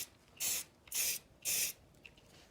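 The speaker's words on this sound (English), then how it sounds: "and I'm going to spray it" Rust-Oleum earth brown spray paint sprayed from a can in three short even bursts about half a second each, with brief pauses and a faint fourth puff trailing off at the end.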